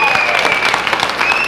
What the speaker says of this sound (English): All that applause for you, Bobby.